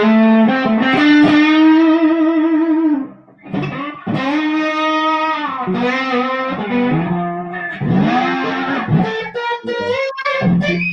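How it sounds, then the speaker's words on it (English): Electric guitar through an overdrive pedal with the gain cranked plays sustained, gritty chords and bends, loud and close, with a brief drop in level around the third second before continuing. "the right side of this pedal can get screaming."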